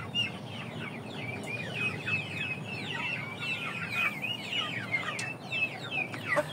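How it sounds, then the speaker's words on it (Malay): Several chickens, including Aseel, Oshamo and Ganoi Saigon breeds, cluck repeatedly in overlapping bursts against a steady background hum, fairly close and continuous. "dengar ayam bunyi-bunyi"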